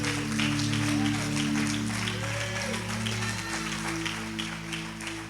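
A church congregation applauds during a service, a broad layer of clapping mixed with sustained tones and voices in a reverberant hall.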